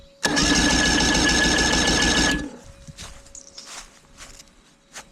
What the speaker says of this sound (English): I'm going to go ahead and disconnect the kill switch so we don't have power going there, and spin over the motor